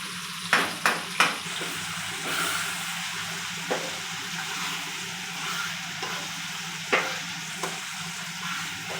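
Tomato chutney sizzles in a hot pan with a steady frying hiss, broken by several sharp scraping stirs near the start and occasional clicks of a spoon against the pan later on.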